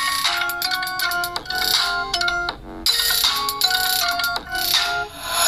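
A ringtone melody plays loudly through the loudspeaker of an Infinix Smart 5 smartphone, a bright multi-note tune with steady rhythmic phrases and a short gap midway, heard alone without talking.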